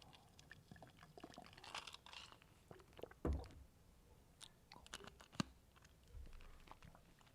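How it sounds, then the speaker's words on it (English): Ice crunching right up against a microphone, with scattered crisp cracks and crunches, a few sharp louder bites and softer grinding between them, close and dry with no talking. "I'm crunching ice, guys, on the microphone."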